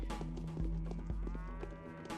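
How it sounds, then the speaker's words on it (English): Cattle in the video game Pathologic give a few mooing calls, close and clear over faint background clatter and soft knocks, with no talk. "Oh, there's the moo cows."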